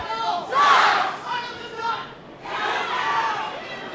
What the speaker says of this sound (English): The crowd lighting into Chris Hicks